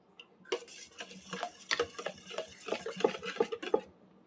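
A spoon mixes salted vegetable biryani in a pot, giving a quick, irregular series of close scraping strokes and metallic clinks against the pot, with no voices.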